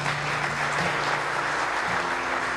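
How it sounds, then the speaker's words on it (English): Steady applause from an audience at a car dealership's 50th anniversary celebration, a continuous even wash of many hands clapping at moderate volume with no pause throughout. "let's give them a big set of applause"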